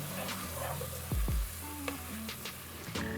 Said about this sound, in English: I'm gonna stir this in